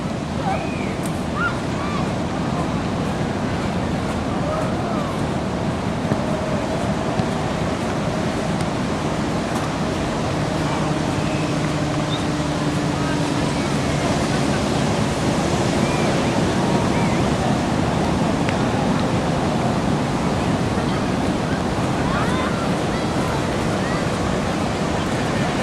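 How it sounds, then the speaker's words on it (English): Big ocean waves breaking as a constant loud surf roar, with wind buffeting the microphone and faint voices in the background. "Wow, those are big waves,"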